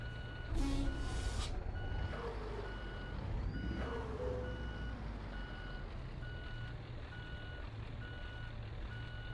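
Steady reversing beeps from a Scania truck backing into a parking spot in Euro Truck Simulator 2, pulsing evenly over a low idling engine rumble with an air-brake hiss near the start.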